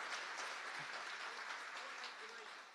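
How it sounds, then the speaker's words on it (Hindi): Audience at a convention in Qatar gives a steady burst of clapping that fills the whole stretch, fairly even and sustained with a slight fade at the end. "एक जोरदार से ताली देना है"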